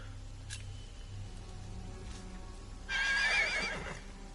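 A horse neighs loudly in a PS4 game of Ken Follett's The Pillars of the Earth, a bright whinny rising near the end after quieter game ambience and faint hoof sounds.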